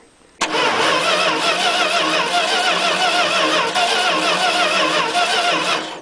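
An engine started with a push-button starter catches abruptly after a brief quiet moment, then runs loud and steady at a rough idle for several seconds, close by.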